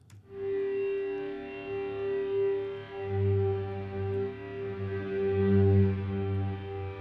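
Granular effect applied to a sample in the Serum V2 synthesizer, producing a sustained buzzing tone with stacked harmonics that pulses and swells unevenly over several seconds.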